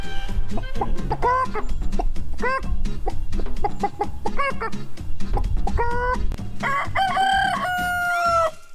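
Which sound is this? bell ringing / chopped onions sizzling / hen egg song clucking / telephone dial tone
hen egg song clucking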